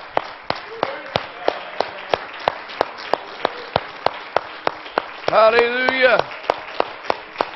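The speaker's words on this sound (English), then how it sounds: "Can we give Him a hand clap before you're seated today?" A church congregation claps hands in steady rhythmic beats during Pentecostal Sunday worship, loud, regular and close, with a voice calling out briefly partway through.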